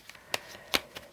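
Tarot cards being handled and picked from a spread: a few soft, crisp card slides and flicks, close and quiet, with no talking.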